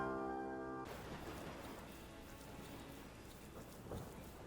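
Steady rain hissing over a Pokémon Sword game scene during a thunderstorm, soft and continuous, with a low rumble of thunder swelling near the end.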